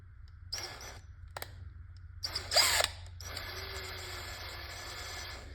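A power drill drives a bolt into a Valken M17 paintball marker, giving short whirring bursts separated by pauses and then a longer steady run, close and fairly quiet.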